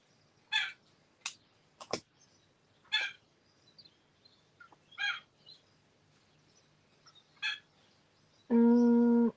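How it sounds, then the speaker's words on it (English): A chicken clucks in short, scattered bursts, several separate calls spaced a second or two apart against a quiet background, before a sudden loud steady tone cuts in at the end. "Oh, chicken."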